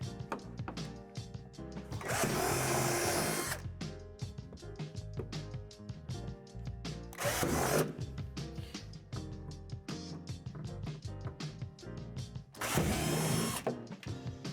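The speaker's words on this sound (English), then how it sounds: "there are 3 holes that we need to drill out from underneath the deck" Power drill boring holes from underneath the plastic deck of a Lifetime Adventure Tower Deluxe swing set, in three loud sustained bursts of whirring separated by quieter clatter and handling noise.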